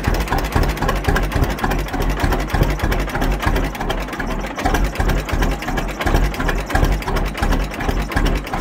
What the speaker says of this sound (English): And it idles pretty low.